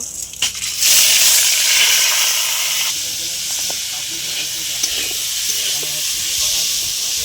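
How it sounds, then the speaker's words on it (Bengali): Raw rice frying in a pan with dry red chillies, cinnamon, cardamom, cumin seeds and bay leaf, giving a loud, steady hissing sizzle after a few sharp opening clatters, continuing without talk. "তো আমি চালটা ভেজে নেব"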